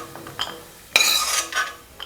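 Fried cashews scooped out of hot ghee in a pan with a metal spoon: sharp clinks and scrapes against the pan, a couple of close, distinct metallic hits, with no talk.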